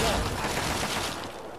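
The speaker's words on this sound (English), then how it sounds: "Assault rifle time." Rapid automatic fire from an assault rifle in the video game Fallout 3, a dense sustained burst of loud gunfire with battle noise and some voice mixed in.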